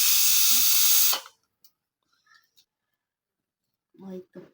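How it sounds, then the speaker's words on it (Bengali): Hot oil tempering (bagar) poured over boiled meat gives a loud, close hiss for about a second, then cuts off abruptly, followed by faint clicks and a brief voice. "এখন বাগার দিয়ে নিব আজকে বাগার দিয়ে মাংস রান্না করব"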